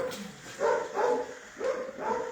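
Dog barking at an animal refuge, four evenly spaced, moderately loud barks heard close by with brief gaps of quiet between them.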